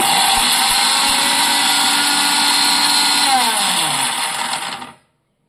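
A mixie grinder grinds spices for a bitter gourd onion masala, a loud steady motor roar with a few early knocks, slowing near the end before cutting off abruptly into silence.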